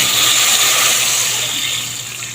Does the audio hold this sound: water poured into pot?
yes